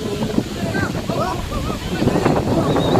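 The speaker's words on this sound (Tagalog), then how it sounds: "Grabe naman po ang alon." Strong sea waves around a small boat, with heavy wind buffeting the microphone and a constant rushing surge of water, loud and close, while someone talks over it.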